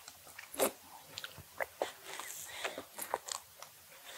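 A two-year-old biting and chewing juicy melon and strawberry, with close, quiet, wet crunches and bites arriving in irregular bursts against near silence.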